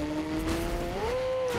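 Engine of a car driven in Fortnite, a steady harmonic drone that rises in pitch partway through as it speeds up, heard alone at moderate level.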